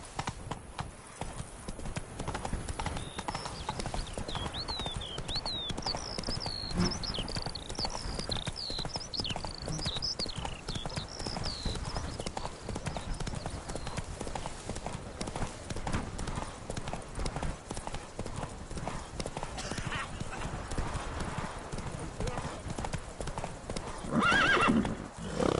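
In a video game, a horse's hooves clip-clop steadily and continuously, with a few high neighs and whinnies early on and an occasional voice over them.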